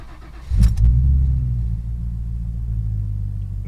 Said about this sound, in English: That was a disappointing cold start.